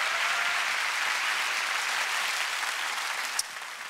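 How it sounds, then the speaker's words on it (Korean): A studio audience at a Korean TV music show applauds steadily and densely at a fair distance, the wash of clapping holding level for the whole stretch with one small sharp knock near the end. "두 분께 박수를 좀 부탁드리도록 하겠습니다"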